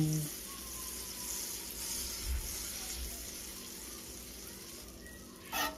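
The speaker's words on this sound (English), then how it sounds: "Listen to that sizzle." A soft, steady sizzle of butter in a hot pan before brioche buns are laid in, faint and continuous, with a brief louder clink near the end.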